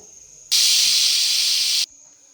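Pressure cooker cooking chicken gojju releases a loud, close burst of hissing steam lasting over a second, starting and stopping abruptly over a quiet kitchen background.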